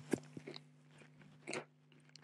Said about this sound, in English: You might hear me munching away on a little rib.